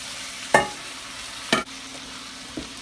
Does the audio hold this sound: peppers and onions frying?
yes